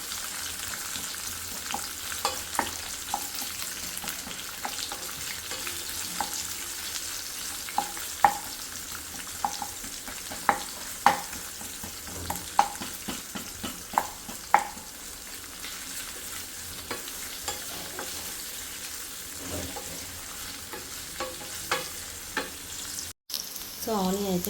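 Onions frying in a pan for butter chicken, a steady sizzle running throughout with scattered sharp crackles and pops and occasional stirring scrapes, no talking.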